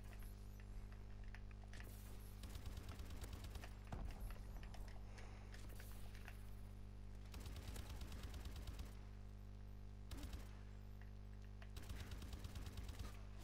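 Light machine gun fire in a video game, heard as several sustained bursts of rapid shots with short pauses between them, loud against a constant background hum.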